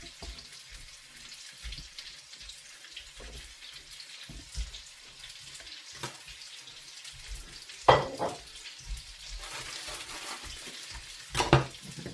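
Beef and vegetables browning in a pan for a black bean sauce stir fry, a soft continuous sizzle with occasional louder clatters and stirring noises.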